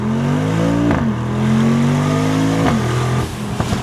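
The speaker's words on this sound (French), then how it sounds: "On rétrograde et on accélère." A Mercedes G-Class engine revs loudly and close, its pitch climbing in steady pulls broken by two brief dips around downshifts before rising again, with no voices over the continuous roar.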